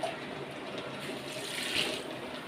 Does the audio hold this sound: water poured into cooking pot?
yes